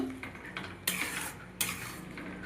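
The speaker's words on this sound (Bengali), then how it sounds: "এবার খুব সুন্দর করে মিক্স করে নেবো।" A spoon scraping and stirring fish egg fritters with chilli and arrowroot in a frying pan, soft sizzling with two sharp scrapes against the metal, close up.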